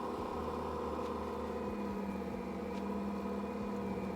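A stand mixer kneads bread dough with a steady motorized hum and a faint recurring knock as the dough turns, sounding like an idling engine, with no voices.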